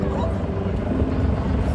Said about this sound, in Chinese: 啊，直升机啊！ 啊，夜晚啲直升机